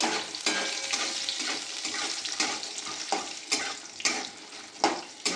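Banana flower peels frying in a kadai with panch phoron spices, a crackling sizzle punctuated by repeated loud stirring scrapes and clanks against the pan at an irregular rhythm.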